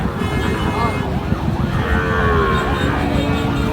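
Young Sahiwal cattle lowing at a busy rural livestock market in Dinajpur, Bangladesh, a drawn-out moo rising over dense crowd chatter and background noise.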